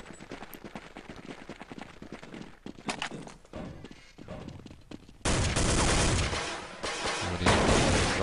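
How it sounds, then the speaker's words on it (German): Rapid gunfire from a Counter-Strike match on the de_nuke map: a stream of sharp, close shots and bursts, then a louder, denser stretch of automatic fire toward the end, with no talk over it. "Waffe ist aus und ein schöner Schuss von Aslak"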